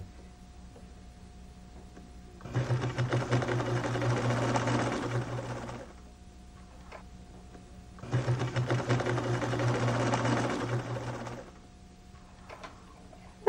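A sewing machine stitches pieced quilt blocks in two sustained runs of fast, even needle chatter a few seconds each, separated by quiet pauses with a faint background hum, close and clear.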